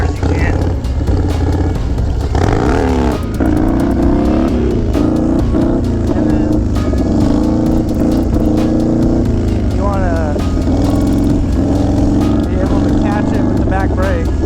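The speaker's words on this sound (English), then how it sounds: "pop in the clutch, give her a few little revs, and then just dump the clutch and yank back as hard as you can." A Harley motorcycle engine revs loudly up close, its pitch climbing in repeated throttle blips and then surging as the clutch is dumped for a wheelie, with a continuous rumble underneath.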